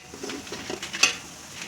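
Spices and ingredients frying in a pan for Tamil-style puli kuzhambu, tamarind curry, with a soft sizzle under a few scraping stirs and one brighter clink of a utensil against the pan, close and fairly quiet.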